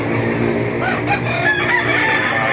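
A rooster crows at a busy chicken market in Baliuag, Bulacan, the drawn-out call rising over clucking fowl and low crowd murmur within a couple of seconds, fairly close and clear.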